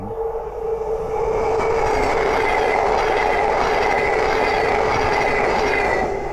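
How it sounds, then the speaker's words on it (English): A Great Northern class 717 electric train passes on the East Coast Main Line at Great Wymondley, its loud, steady rumble rising after a second and holding close by to the end. "Oh, there's the Great Northern 717."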